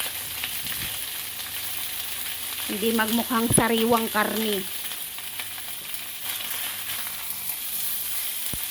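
Pork sizzles and crackles in a hot pan for a few seconds while browning for adobo, with stirring clatter, while a voice speaks briefly over it.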